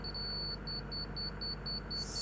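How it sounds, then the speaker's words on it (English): A grade-checking laser level receiver gives a quick series of short, high-pitched electronic beeps in a steady rhythm, ending in a sustained tone, faint over low background rumble. "Slow beep is low, solid tone is perfect,"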